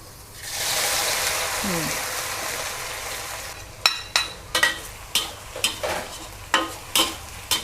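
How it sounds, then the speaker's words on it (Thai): Garlic dropped into hot oil in a pan with the gas turned off, hissing in a loud steady sizzle that fades slightly, then a run of sharp clinks and scrapes as it is stirred, with someone talking briefly. "การก็จะเอา กระเทียมค่ะ ลงไปเจียวเลย"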